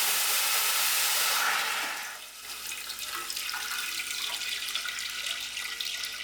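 Eight cups of water pour from a kettle into a large pot over high heat for cooking samp and beans, a loud splashing gush at first that softens into a steady hiss and trickle.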